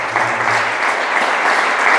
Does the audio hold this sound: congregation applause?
yes